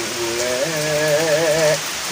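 Steady rain patters in a continuous soft hiss, with a brief wavering tone rising over it midway before fading back to rain alone.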